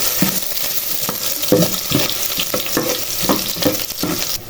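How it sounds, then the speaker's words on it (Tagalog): Ginger sizzles and crackles in hot cooking oil, a steady close frying hiss broken by repeated stirring scrapes, with no talking. "So ayan, mainit na ang ating mantika. Manggigisa na tayo."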